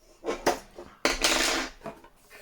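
Metal Trangia camping stove pots and rings clatter and clank as they are handled, a few sharp scraping knocks and a longer rattling burst, close and clear.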